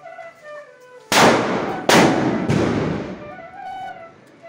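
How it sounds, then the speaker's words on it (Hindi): Three loud firecracker blasts go off in quick succession during Igas Bagwal celebrations in Uttarakhand, each a sharp crack followed by a rumbling decay, with faint background noise between. "वो देखो पापा क्या फोड़ रहे हैं बम।"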